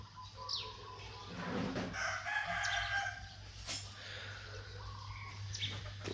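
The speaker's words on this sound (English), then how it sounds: "And there's a rooster over there in our kitchen" A rooster crows at a moderate distance against a steady low hum, with other fowl clucking faintly around it.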